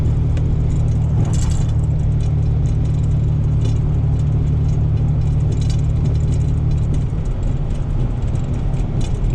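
A big white tractor trailer truck drives past in a snowstorm: a loud, steady, low engine rumble and road noise that holds throughout, with no talk.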